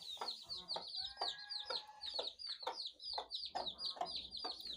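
Hens cluck repeatedly in short bursts with high chirping calls layered over them, busy and close on a poultry farm in Pakistan, with a faint murmur of activity behind.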